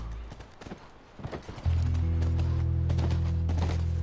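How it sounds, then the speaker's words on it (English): Horse hooves trotting in The Last of Us, a run of rhythmic clip-clops heard first alone, then joined partway through by a loud, steady ambient drone. "That's our horse."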